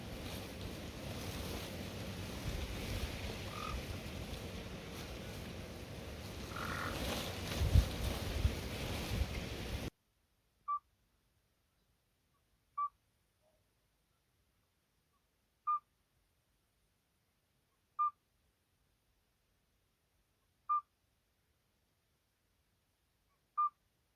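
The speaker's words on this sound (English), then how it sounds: "this little chap here is a midwife toad. Making all that noise." A midwife toad calling in rural central Portugal: short, clear, pure piping notes repeated evenly about every two to three seconds, alone in quiet surroundings after a stretch of windy outdoor noise.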